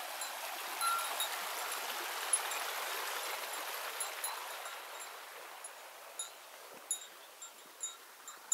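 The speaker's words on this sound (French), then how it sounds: "C'est un ruisseau qu'on commence à suivre au début du chemin." A small creek flows steadily beside a hiking trail toward Chiquito Falls in Southern California, making a close, even rushing and babbling wash with a few soft splashes and no talk.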